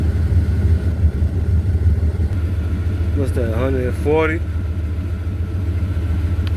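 A car engine idles in a steady low rumble that runs the whole time, while someone speaks briefly over it inside the vehicle.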